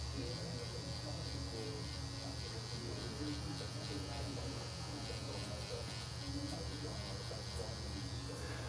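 Scalp micropigmentation tattoo machine with a single needle buzzing in a steady, faint, continuous electric drone, with a quiet low hum underneath and no clear talking over it.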